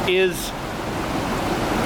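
Waterfall at an old lock of the 2nd Welland Canal, a continuous broadband rush of falling water, steady and moderately near, with a brief spoken word at the start.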